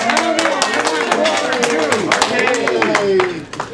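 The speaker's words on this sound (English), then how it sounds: "let's have a warm round of applause for our speaker this evening, Charles Paidock" Audience applause welcoming an evening speaker at a talk, dense clapping from many people under a loud overlapping voice, tapering off near the end.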